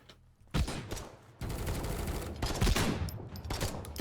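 Rapid automatic gunfire in the PC video game Potentia, a loud fusillade that breaks off briefly and resumes in sustained bursts, with mechanical clatter and no voices.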